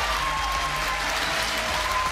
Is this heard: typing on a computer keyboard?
no